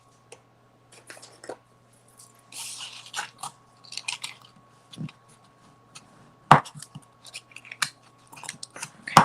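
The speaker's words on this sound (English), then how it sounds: "now I'm going to fold this on the score lines, and I do want to use my bone folder" Paper being folded along score lines with a bone folder gives close, faint crisp creases and scraping rubs in scattered bursts over a quiet background, with no talking.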